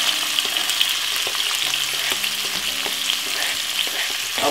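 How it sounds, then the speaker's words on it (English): White onion and tomato fry in vegetable oil with a steady, close sizzle, broken now and then by soft clicks and scrapes of stirring. "I'm just gonna simple fry off my white onion and all of my tomato"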